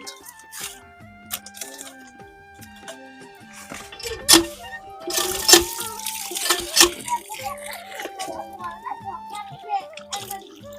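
Tap water runs and splashes while raw meat is rinsed in a basin, with intermittent splatters over a busy background of household noise and music-like tones, and a voice speaks briefly.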